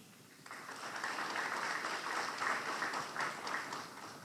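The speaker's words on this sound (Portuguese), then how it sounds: "Vamos aplaudir também o Antônio Carlos Lirani." An audience at a Brazilian internet congress applauds, a steady wash of clapping that swells after a soft start and holds at moderate volume, with no voices on top.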